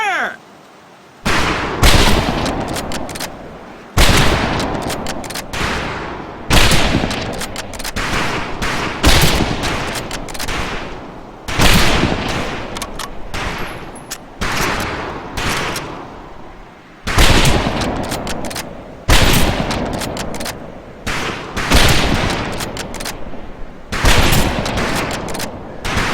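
Rifle volleys crack out at a firing range in Medal of Honor: Pacific Assault, loud close shots in irregular bursts every second or two across the whole stretch, with brief gaps between groups.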